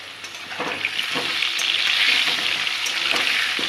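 Potatoes fry in a pan in a home kitchen, giving a steady bright sizzle that holds through the whole stretch, with a few soft clinks and stirring knocks close by.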